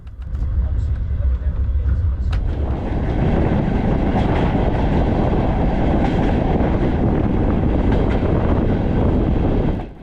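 Steady rumbling roar of a long passenger train from China to Mongolia rolling along the rails, loud and continuous with rhythmic clatter, heard from on board throughout.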